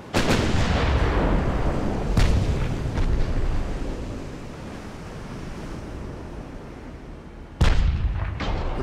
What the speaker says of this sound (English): These are my side guns that are firing.